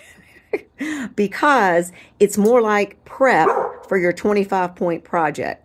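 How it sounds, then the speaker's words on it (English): A dog barks and yips repeatedly in short bursts indoors, close by, mixed in with a person talking throughout. "I'm sure you're going to hear him bark a little bit"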